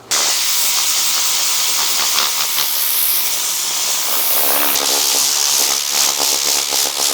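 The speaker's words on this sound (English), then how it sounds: "let me get some compressed air and give it a first dry" Compressed air blasting to dry a freshly cleaned child car seat's fabric at home, a loud, close, continuous hiss that holds steady for several seconds with slight fluctuations as the nozzle moves.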